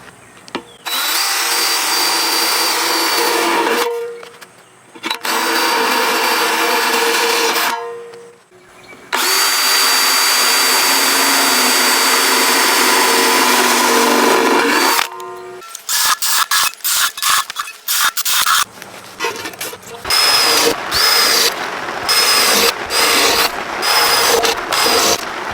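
A power drill grinds loudly through sheet metal, drilling holes for a tabletop smokeless fire pit, in long sustained runs with short pauses, then breaks into rapid bursts of start-stop drilling.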